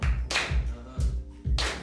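An audience claps along at a live music show, with sharp hand claps about every half second over a heavy low beat and some faint voices.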